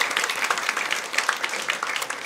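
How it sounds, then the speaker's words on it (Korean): A church congregation at a Sunday worship service applauds together, a dense, steady wash of clapping from many hands that fills the room for a couple of seconds. "하나님께 영광의 박수 하겠습니다"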